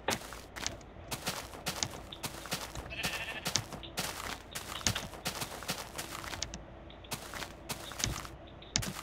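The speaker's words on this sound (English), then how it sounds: "It's all sheep out here." A Minecraft sheep in the Tekkit modpack bleats once amid a fast, uneven run of crisp clicking footsteps and block sounds, with no talking.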